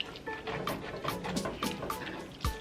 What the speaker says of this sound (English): I'm gonna add just a little bit of water so it cooks together slowly